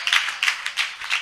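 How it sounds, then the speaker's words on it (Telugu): Church congregation clapping hands together in a worship service, several bursts of hand claps in quick uneven rhythm, fairly close and clear with no talking. "నేను కూడా కొడతాను మీకోసం."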